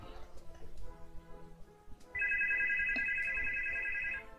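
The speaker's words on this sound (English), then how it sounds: "Sorry, I got a phone call in the middle." A phone ringtone for an incoming call cuts in midway, a steady bright electronic tone lasting about two seconds. It rings over quiet background talk, then stops abruptly.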